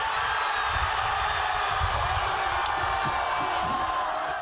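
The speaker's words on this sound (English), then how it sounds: "Thousands in Calgary joining the chorus of Canadians cheering on the nation's soccer team." Thousands of fans in Calgary cheer for Canada's national soccer team during the World Cup, a sustained crowd roar with whoops and shouts rising from a broad, distant-sounding mass of voices.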